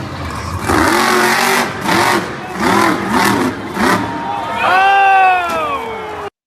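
A vehicle engine revs repeatedly in short bursts as it struggles for a wheelie in mud during a skills competition, then a higher sustained whine rises at the end, loud and near, with no talk over it.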